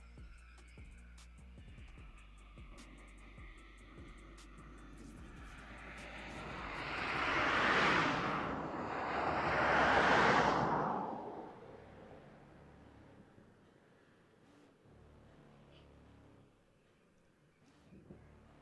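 A cheap RC crawler's electric motor whines at about half throttle as the truck climbs a step, swelling louder over several seconds in two rising surges before fading back, close by with no talk.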